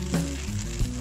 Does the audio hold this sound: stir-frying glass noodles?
yes